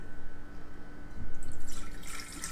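A little water is poured into the bottom of a glass fish bowl for a flower arrangement, giving a soft, steady trickle that builds into a brighter splashing pour near the end.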